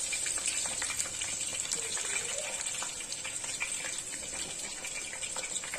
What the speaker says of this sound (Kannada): ಎಣ್ಣೆ ಕಾಯ್ದ ಮೇಲೆ ಒಂದೇ ಒಂದು ಸಣ್ಣ ಈರುಳ್ಳಿ ಕಟ್ ಮಾಡ್ಕೊಂಡಿರೋದು ಹಾಕೋತಾ ಇದ್ದೀನಿ.